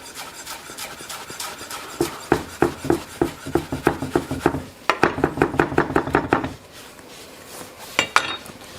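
A knife finely chopping fresh mint on a board, quick rhythmic bursts of sharp taps in two runs separated by a brief pause, close and crisp, with no one talking.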